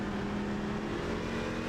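Truck engine in a racing video game held at a smooth, easy throttle, a steady, continuous drone with a constant pitch for a brief moment, with no talk over it.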